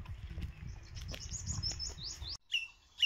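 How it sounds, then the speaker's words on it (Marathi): Birds chirp in a Konkan village, with repeated high tweets and short calls over a low outdoor rumble and shuffling, then fuller chirps after a brief lull. "पक्ष्यांचा आवाज बघा"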